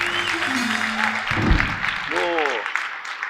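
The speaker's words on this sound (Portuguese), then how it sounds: "salva de palmas para ele" Applause from a studio audience on a Brazilian political talk show, moderate clapping blended with other voices and a brief thump, with tonal sounds rising near the end.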